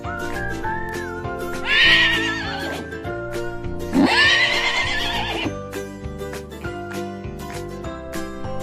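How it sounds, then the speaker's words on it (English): A cartoon horse neighing in a children's animated animal series, two loud whinnies rising and trailing off over background music, with no talking. "Horse, foal, a baby horse is a foal."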